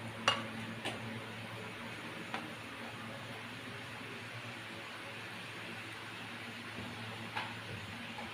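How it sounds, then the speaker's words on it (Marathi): Sandge, sun-dried lentil dumplings, frying in hot oil until crispy: a soft, steady sizzle runs throughout, with a few light clinks of a utensil against the pan. "छान अशी क्रिस्पी आपण तळून घेणार आहोत जरा लालच"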